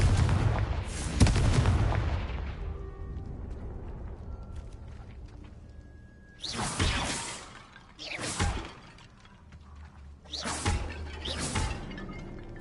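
Confringo fire spells are cast in Hogwarts Legacy. A loud opening blast rumbles and fades, then several sharp whooshing impacts follow at intervals of a few seconds, close and punchy with no talking.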